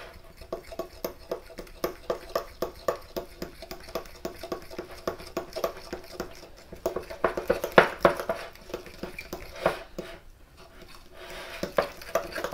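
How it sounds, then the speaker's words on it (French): A fork mixing egg and oil into dry ingredients for keto bread in a bowl, with quick, steady clinks and scrapes in an irregular rhythm that speed up partway through. "Et on mélange bien."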